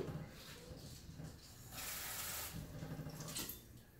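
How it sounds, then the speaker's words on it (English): Water runs from a tap in a steady, quiet hiss as a microscope slide is rinsed under it, swelling louder for a moment in the middle before settling back. "I'm going to run it under tap water."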